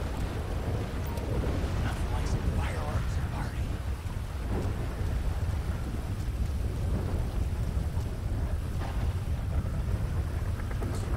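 A thunderstorm with lightning in the video game GTA V: steady heavy rain pours down with low rolling thunder rumbling throughout, a continuous stormy wash with no clear voices.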